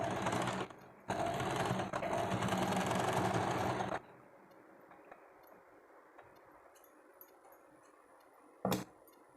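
A sewing machine stitches a tassel onto the back of a blouse, running loud and steady for a few seconds, stopping briefly and then running again before falling quiet.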